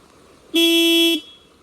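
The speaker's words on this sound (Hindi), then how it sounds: "मैं आपको हॉर्न भी बजा के बताता हूँ कि कैसे" A scooter horn sounds once, close and loud, in a steady tone of about half a second. Quiet follows on both sides.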